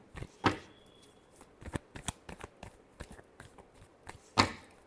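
Tarot cards riffled and shuffled in several quick bursts, with a sharp flurry near the start and another toward the end, softer shuffling taps between, close by with no talking.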